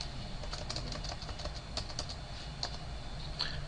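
Steady run of computer keyboard typing while renaming a folder on a PC, quick irregular key clicks at close range, moderately loud over a constant background hum, with no talking.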